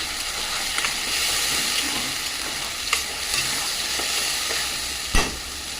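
A paste of ginger, garlic, prawns and tomato fries in a pan with a continuous, close sizzle, broken by occasional sharp scrapes and clacks of stirring.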